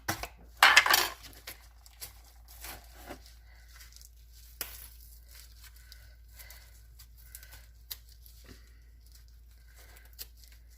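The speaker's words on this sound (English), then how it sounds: "I'm going to add the smoked paprika. Okay, see if I can get this open." A smoked paprika spice container is worked open with a burst of close plastic clattering and tearing at the start, then scattered soft clicks and taps in a quiet kitchen.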